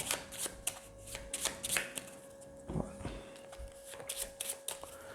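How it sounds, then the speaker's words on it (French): A spectator shuffles a deck of playing cards during a magic show, giving rapid, crisp riffling flutters in quick bursts, close and clear, with quiet voices in the background. "chaque spectateur est amené à mélanger les cartes"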